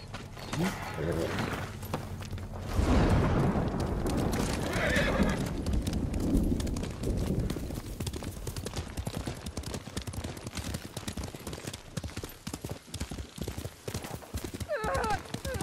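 Horses gallop with rapid clip-clop hoofbeats and loud neighs during a mounted charge in the feudal Japan game Ghost of Tsushima, with battle noise and a voice shouting over the continuous galloping.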